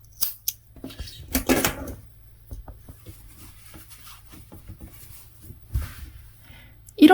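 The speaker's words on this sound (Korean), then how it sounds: "쪽가위로 잘라주실게요." Small thread snips cut knitting yarn while a mitten is finished, giving a few faint, close snips among quiet handling sounds. Brief bursts of talk come in near the start.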